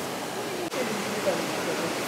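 A river flows beside a hot spring town, giving a steady, close rushing of water as a continuous broadband wash with little variation.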